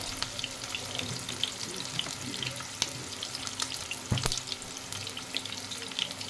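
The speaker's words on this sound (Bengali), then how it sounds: "এবার আলুগুলোকে আমি ভালো করে ভেজে নেব, একটু লাল লাল করে।" Boiled potatoes fry in hot oil in a pan for aloo rajma, giving a continuous crackling sizzle with scattered sharp pops and spatters at close range.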